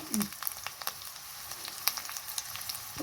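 Garlic tempering sizzling in hot oil for ambade puli munchi, a soft crackling sizzle with scattered sharp pops and a faint stirring scrape, close and fairly quiet.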